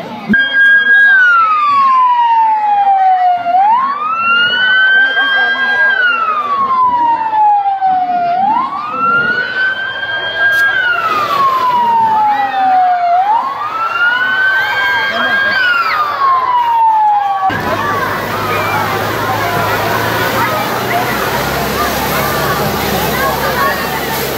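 A loud ambulance siren wails in slow rising-and-falling cycles, about four sweeps, near and continuous during a school fire drill, then cuts off abruptly into broadband noise.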